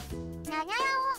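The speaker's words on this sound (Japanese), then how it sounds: "また庭から猫の鳴き声、2匹目来ましたねこれ" Cartoonish cat meows from a garden in the talking-cat life game Nekotomo, two clear, rising, mewing calls close and loud, with no talk over them.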